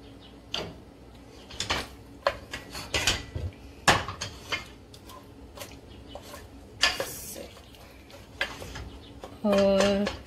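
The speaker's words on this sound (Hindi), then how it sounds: "हम थोड़ा सा अब इसको भूनेंगे। अब हम इसको तेज आंच पर पकाएंगे।" Lamb is stir-fried in a pot over high heat, with a metal utensil clanking and scraping against the pot in scattered, sharp knocks close up.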